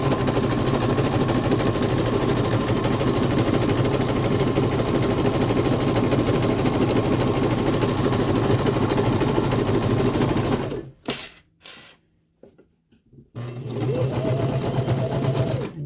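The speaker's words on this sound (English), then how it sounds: "when I get back to the back, I'm going to sew over the stitching I already did" A sewing machine stitches a skort waistband with a zipper, running in a fast, steady close-up whir for about ten seconds. It stops briefly with a few clicks, then starts running again.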